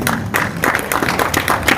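Audience applause at a Hindi comic poetry recital: a dense, loud wash of clapping that swells in repeated bursts through the short stretch, with no talking over it.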